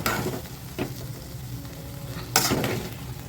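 Chicken fry sizzles steadily in hot oil in a pan, with a few scraping stirs of a spoon cutting through the close, constant frying hiss.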